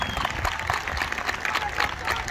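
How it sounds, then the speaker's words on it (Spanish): Audience applause at an award ceremony for school and alumni military bands of firefighters in Coinco, 2022, brisk crowded clapping, fairly close and continuous, with a voice speaking over it. "Brindemos un fuerte aplauso a estos ex alumnos"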